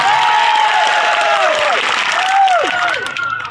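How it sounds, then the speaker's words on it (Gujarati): Loud, dense applause from a large crowd at a political gathering in Kavant welcomes Chaitarbhai Vasava, sustained for the whole stretch, with faint rising and falling whistle-like tones over the clapping. "આપણે એમને જોરદાર તાળીઓના ગણગણાટથી એમનું સ્વાગત"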